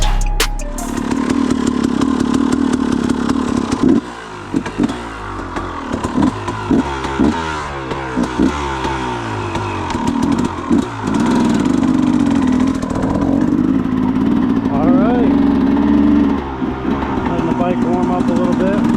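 Motorcycle engine warming up and idling on a wooded trail, a loud steady putter with uneven revs and clattering, as someone talks over it in short bursts.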